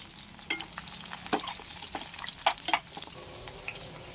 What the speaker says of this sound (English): add the kebab pieces and fry them until they are nicely brown